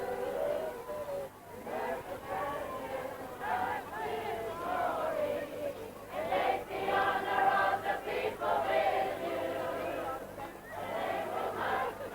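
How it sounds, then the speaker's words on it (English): A large crowd at Te Poho o Rawiri marae during the 1983 royal visit of Charles and Diana, with kapa haka ranks. Voices rise in sustained chanting and calls that swell and fade, a steady mass of sound with talk mixed in. "in the background you can hear the stirring sounds of marae"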